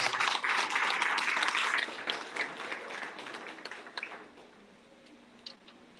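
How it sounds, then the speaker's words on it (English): Seated guests at a formal lecture event give a round of applause, the clapping loud at first and then tapering into a few scattered, fading claps. "Can we give a big round of applause?"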